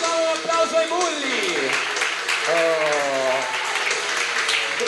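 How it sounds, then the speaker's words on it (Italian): Studio audience applause on an Italian television game show, a broad steady wash of clapping running throughout with voices and tonal music lines mixed over it. "Intanto facciamo un applauso ai Bulli."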